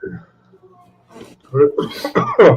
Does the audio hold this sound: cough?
yes